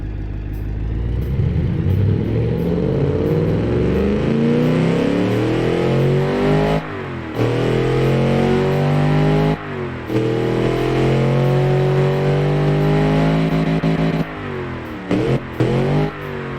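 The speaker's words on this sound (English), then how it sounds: "let's listen to this awesome V8 and see how this thing actually sounds" A simulated V8 in a Mustang replica car from the Automation driving game, revving hard and loud with rising and falling engine pitch, several sustained pulls broken by brief drops and a short stutter near the end.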